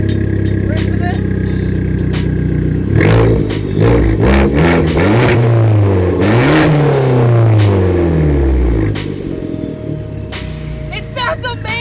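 A 1.4-liter car engine with a manual gearbox revs up close by, its pitch climbing and falling in repeated rising and falling sweeps, with a few loud clanks among the revs and a voice talking over it at times.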